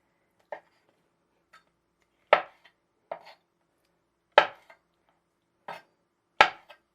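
Vegetables for a Greek salad are chopped on a cutting board in separate, crisp knife strikes, about six or seven sharp chops spaced unevenly with quiet gaps between them, close and clear.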